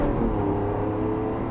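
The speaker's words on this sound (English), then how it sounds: "740 bhp Aventador SV" A 740 bhp Lamborghini Aventador SV on a race track with stability control off, its engine droning loud and steady from inside the cabin as it pulls through second gear without a break.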